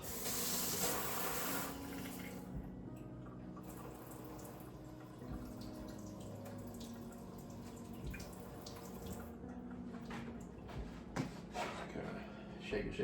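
Tap water runs steadily into a kitchen sink as fresh oregano is rinsed and shaken, a continuous splashing wash with occasional drips and clatters throughout.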